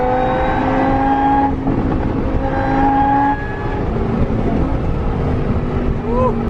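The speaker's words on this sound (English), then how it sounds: "Driving behind a Bugatti Veyron, except we're going 3 miles an hour because we're in traffic." A Bugatti Veyron creeps along in slow Los Angeles traffic while a car engine hums steadily nearby, with a sustained drone and mild rises in pitch rather than hard acceleration.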